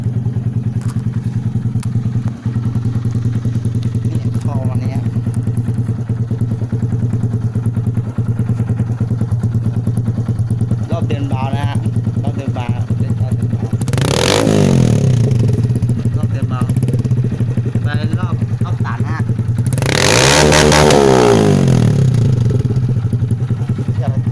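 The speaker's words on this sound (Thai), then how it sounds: "เรามาดูฟังเสียงท่อฮะ" A Honda MSX SF motorcycle fitted with an SC exhaust idles with a deep steady rumble, then revs loudly twice, rising and falling in pitch each time before settling back.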